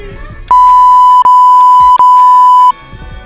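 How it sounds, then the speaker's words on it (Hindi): A loud, steady censor tone of about two seconds, broken by two very short gaps, dubbed over swearing shouted from a car. Quiet background noise comes before and after it. "मैं बीप डाल दूंगा उसमें"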